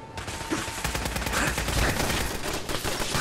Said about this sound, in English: A minigun named Fate.